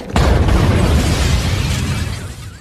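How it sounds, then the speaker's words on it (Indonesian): A house blows up in a gas-pipe explosion in a film, a sudden loud boom followed by a sustained heavy roar and rumble of debris that slowly fades over a couple of seconds, with no talk. "ledakan pun langsung terjadi dan menewaskan mereka"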